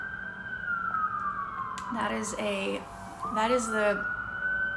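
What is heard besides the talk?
city sirens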